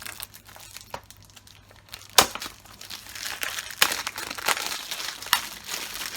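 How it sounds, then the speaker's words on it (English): Plastic wrap is peeled and crumpled off a 4K disc case, close by, in irregular crinkling bursts with sharper crackles that grow busier toward the end. "we'll take the plastic off"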